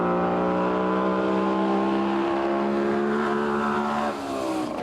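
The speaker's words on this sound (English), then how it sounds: "This would have to go down as probably one of the most sensational sounding trucks." A 1974 White truck with a GM 6-71 diesel and 15-speed Road Ranger gearbox revs loudly and steadily, a rich harmonic engine drone that holds throughout and eases slightly near the end.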